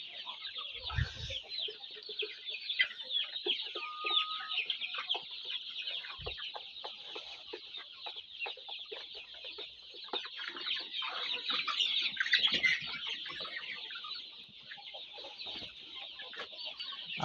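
Tiger breed chickens cluck and chatter continuously on a poultry farm, a dense flock of overlapping clucks with a few sharper calls, steady and moderately close.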